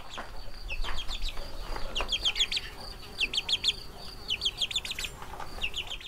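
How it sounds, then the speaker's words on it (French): Chicks and ducklings in a brooder peep constantly in quick clusters of high, thin chirps, with softer low clucking and rustling beneath, the birds close by and no voices. "Les poussins, les canards, tout le monde est à sa petite poussinière."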